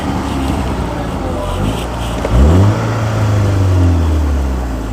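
A Seat Leon Supercopa TSi, twin fat exhausts, revs briefly from idle in a short rising and falling sweep, then settles back to a steady, fairly muted hum; close by, no talking.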